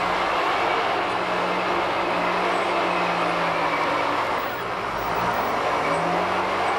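A two-grip forestry harvester works and reverses during timber processing, giving a loud, steady diesel drone with a low engine hum and broadband mechanical rumble that holds constant throughout.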